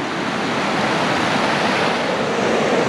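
A creek in the Smoky Mountains rushes as a steady, broadband wash of flowing water, close and loud, continuous with no voices.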